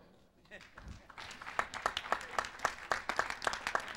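An audience applauds at the 1993 New York Sports Hall of Fame induction honoring Yankees outfielder Tommy Henrich. The clapping is scattered at first, then builds into moderate, steady applause with distinct individual claps.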